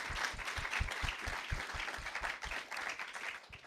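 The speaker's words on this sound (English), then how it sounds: "we can definitely give her a round of applause." Audience applause for a guest poet at a small community gathering, a modest group clapping steadily with distinct individual claps, fairly faint and tapering off near the end.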